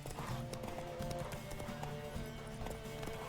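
A horse gallops in The Witcher 3 video game, its hooves clip-clopping in a steady rhythm under a dense, continuous bed of game sound and music.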